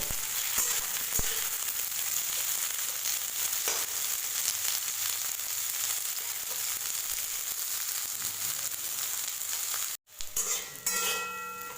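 Bitter gourd stir-frying in a pan for Indian karele ki bhujia: a continuous soft hiss of sizzling with occasional spatula scrapes and stirs, fairly close, briefly cut near the end, no talk.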